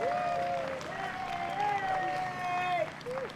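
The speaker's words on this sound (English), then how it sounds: "Let's give them a round of applause." Audience applause breaks out at a Juneteenth celebration in Windsor: a steady wash of crowd clapping lasting a few seconds, with a sustained tonal voice or instrument riding above it.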